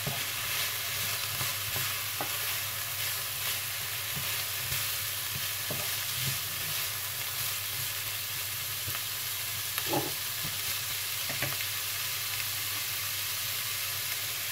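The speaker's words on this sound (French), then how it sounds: "je vais rajouter les carottes dedans. Et je mélange." Carrots are stirred into sautéed ground beef in a pan. A loud, dense, constant sizzle comes from close by, with occasional soft scrapes of a utensil and no pauses.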